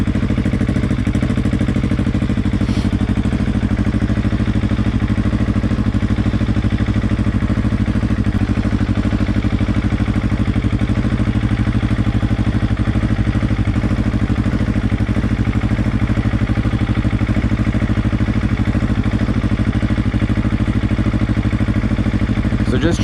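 A motorcycle engine runs as a learner rider lifts her feet and sets off: a loud, unbroken mid-pitched drone that holds steady for the whole stretch.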